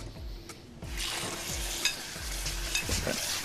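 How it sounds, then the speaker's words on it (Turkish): Hot oil sizzling steadily in a pan, a dense close crackle with repeated low thumps and occasional clinks from handling. "Yağ da burada kızıyor ben kapatayım."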